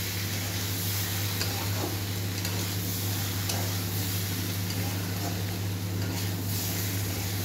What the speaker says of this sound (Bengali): নুন, লঙ্কা গুঁড়ো, হলুদ গুঁড়ো, কাশ্মীরি লঙ্কা গুঁড়ো অল্প দিয়ে ভালো করে এবারে কষে নিচ্ছে আনাজগুলোকে।